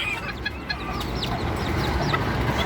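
Small bantam chicken clucking in short repeated calls against steady farmyard background noise, with a few brief sharper chirps from other birds nearby.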